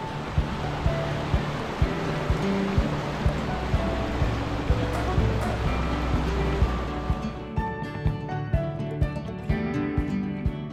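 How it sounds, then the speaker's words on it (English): Pocono Creek flows downstream of the Camelback Resort with a continuous loud rushing wash of water, close by, interrupted by scattered clicks and knocks, then thinning somewhat toward the end. "Across the street is Pocono Creek, which flows downstream from the Camelback Resort."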